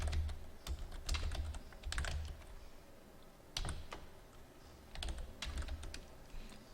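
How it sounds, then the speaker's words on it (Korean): Keys on a computer keyboard are typed in short bursts with pauses between, including an Alt+Enter combination while entering text in a spreadsheet cell. The clicks are close and soft, and there is no speech. "Alt 엔터를 쳐서 한 셀에 2줄로 글자를 입력할 수 있고요."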